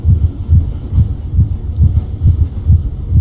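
Steady heartbeat in a black and white horror video game, a deep double-thump pulse repeating about every half second, loud and alone throughout.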